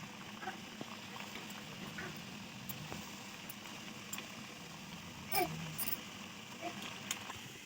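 Shankarpali dough pieces frying in hot oil, a faint continuous bubbling fizz with scattered small pops and one brief louder crackle partway through.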